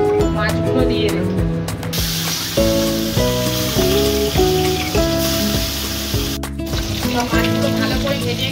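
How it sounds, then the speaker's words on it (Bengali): Singhi, lata and koi fish frying in hot oil in a kadai, giving a steady bright sizzle throughout that sits under prominent background music. "এদিকে কড়া আছে, আমি মাছগুলো দিয়ে দেবো।"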